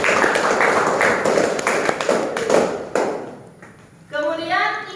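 A classroom bursts into quick clapping for a student named Jasmine, a dense patter of hands that thins out and stops, followed by a teacher's voice speaking.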